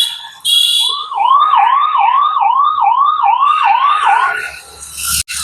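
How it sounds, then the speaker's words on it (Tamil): An ambulance yelp siren wails loudly and close, cycling rapidly up and down about eight times. Its start and end are cut off abruptly. "YELP. ஸோ அது எப்படி சவுண்ட் ஆகுதுன்றதை நம்ம கேட்கலாம்."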